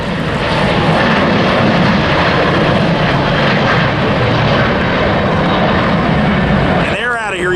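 A jet airliner roars through its takeoff at LAX, a loud, sustained engine rumble that holds steady, then a voice speaks briefly near the end.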